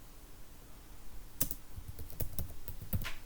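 Quiet room, then a computer keyboard typing a shell script: a burst of soft, irregular keystroke clicks close by, with a few sharper taps near the end.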